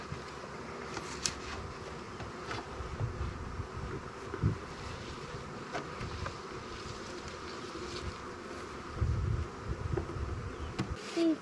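Honeybees buzz steadily around wooden hive boxes on a family farm, a dense, continuous drone with individual bees passing close to the microphone, mixed with light outdoor wind noise.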